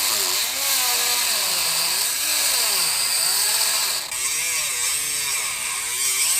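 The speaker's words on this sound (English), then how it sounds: "So I'm whipping out the Dremel." A Dremel rotary tool cuts through a stuck motor mount bolt on a Subaru Outback, a loud, close high-pitched whine that rises and falls in wavering pitch as it bites into the metal.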